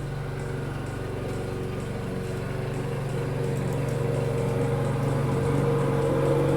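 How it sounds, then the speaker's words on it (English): A lawn mower engine runs steadily nearby, a continuous droning hum that stays loud and unbroken throughout, with no talk over it. "Sorry about the lawnmower."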